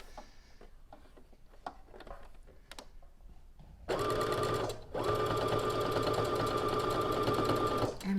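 A domestic sewing machine stitches a hoodie seam: a few soft handling clicks and taps, then a loud close mechanical whir of fast stitching with a brief pause before it resumes and stops.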